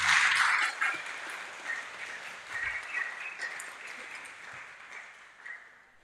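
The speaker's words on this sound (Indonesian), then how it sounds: "Tepuk tangan dulu dong." Audience applause at a Buddhist Dhamma study session, a burst of clapping that fades into scattered, thinning claps and faint murmurs over several seconds.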